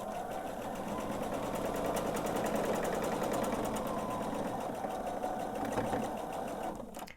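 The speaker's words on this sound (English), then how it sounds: "now what I'm going to do is sew the length of the seam" A quilting sewing machine runs a long seam on a table runner, its needle buzzing in a fast, even rhythm throughout, close and steady before stopping at the end, with no voices.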